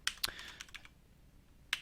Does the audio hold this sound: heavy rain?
no